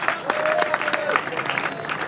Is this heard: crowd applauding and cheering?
yes